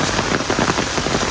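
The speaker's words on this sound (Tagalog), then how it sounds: "Oh my goodness, kusog yung ulan." Heavy rain from Typhoon Shanshan pours steadily onto surfaces near a small river, a dense, loud, continuous wash of drumming drops with no voices.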